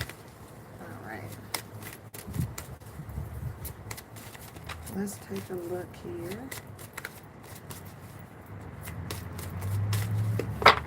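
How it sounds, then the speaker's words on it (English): A deck of tarot cards is shuffled by hand in soft, rapid riffles and flicks that come in bursts, close by, while a person talks quietly over the shuffling. "I'm going to shuffle these and cut and then select the cards"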